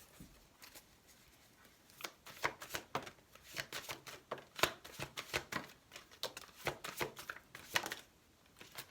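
Tarot cards from a Druidcraft deck being shuffled, a run of crisp riffling and slapping bursts in an irregular rhythm, close and fairly quiet, with no voice.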